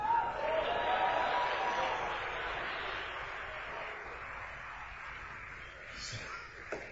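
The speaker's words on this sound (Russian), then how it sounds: "Дайте аплодисменты Иисусу, друзья." A church congregation applauds in a long, dense wash of clapping that starts strong and slowly thins out over several seconds, with no talk over it.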